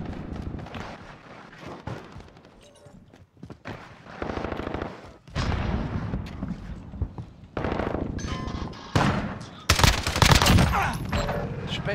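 Gunfire in the Call of Duty Modern Warfare video game, repeated loud bursts of automatic fire and single shots over about twelve seconds, with game voices and player talk in between.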